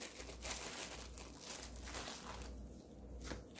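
Thin plastic sheets layered between slices of beef crinkle and rustle softly up close in a few quick bursts, with no talking.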